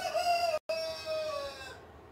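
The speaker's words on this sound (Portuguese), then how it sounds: "Meu galo acordou, gente." A neighbour's rooster crows a single long drawn-out call, with a brief gap partway through, loud and clear against an otherwise quiet indoor background.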